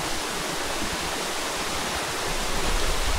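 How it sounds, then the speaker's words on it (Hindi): A jungle waterfall near the Teesta Valley in the Darjeeling hills roars steadily as it pours down into the valley, a loud, dense, unbroken rush of water heard alone. "झरने का आवाज़ आपको सुनाई दे रहा है"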